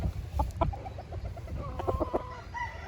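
Spangle gamefowl in a backyard cluck and chatter in short bursts, fairly close but soft, with a brief crow-like call among them over low outdoor background noise.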